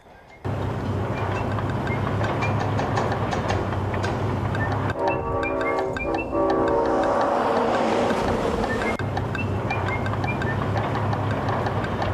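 A train pulls away on a railroad line, a steady low engine rumble with wind-like broadband noise holding throughout, shifting in tone partway through as it gets underway; no talk.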